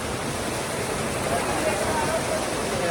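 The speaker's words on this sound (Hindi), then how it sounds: "ये है नीर झरना मेरे बैक साइड में।" The Neer waterfall near Rishikesh gives a steady, dense roar of rushing water, continuous and fairly loud throughout with no pauses.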